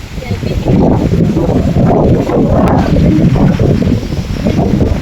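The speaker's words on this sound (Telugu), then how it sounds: "ఆ వాటర్ ఫాల్ శబ్దం వింటే మీకు కూడా భయం వేస్తుంది" A large waterfall near the Ellora caves roars as a loud, steady broadband rush, with wind buffeting the microphone throughout.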